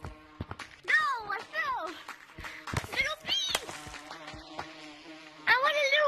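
Honeybees buzzing in the video game Gorilla Tag, a whiny insect drone in bursts that swell and fade, heard under excited, ongoing child chatter.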